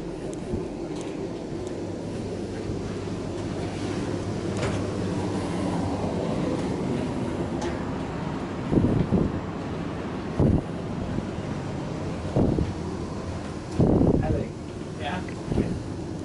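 A refurbished Class 350 train rolls along in the West Midlands, its steady low rumble and rushing wind noise filling the carriage, with a few louder thumps and rattles later on and voices talking over the ride.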